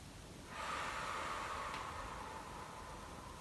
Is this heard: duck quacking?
no